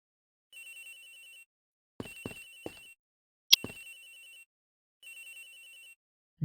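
A telephone rings in the Ace Attorney Investigations video game. Three separate bursts of bright electronic ringing are spaced by short gaps, a few soft thuds fall in between, and there is no talking.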